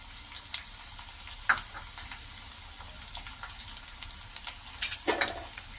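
Chopped onions sizzle in hot oil with urad dal and peanuts for poha chitranna, a steady close frying hiss broken by a few sharp spatula scrapes against the pan.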